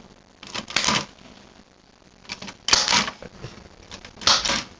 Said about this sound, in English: this is a demonstration, this is a Japanese typewriter